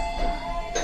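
Table call button chime in a Japanese restaurant serving grilled lamb, a short electronic ding-dong with two clear tones over quiet room murmur.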